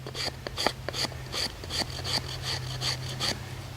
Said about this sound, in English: But out of the box, it scrapes.